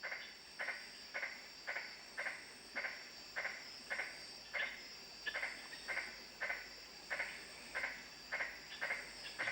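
Magnificent tree frogs (Litoria splendida) calling at night around a camp among Kimberley sandstone rocks: a steady run of short, evenly spaced pulsed calls, clear and moderately close, with no voices.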